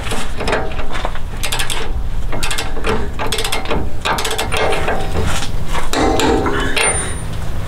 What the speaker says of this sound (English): this bond castle nut gets torqued to 103 foot-pounds